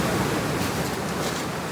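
Ocean waves surge and wash onto a south coast beach, a steady broad roar of surf that stays loud and close with wind mixed in across the whole short stretch.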